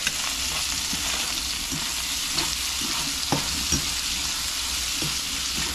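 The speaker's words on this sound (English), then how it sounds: "I'm toasting up some tortillas, and this won't take long." Tortillas toast in a hot pan beside squirrel carnitas, a continuous close sizzle with occasional soft clicks and scrapes over a steady hiss, no voices.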